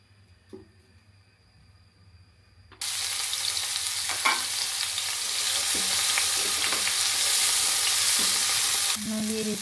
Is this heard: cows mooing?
no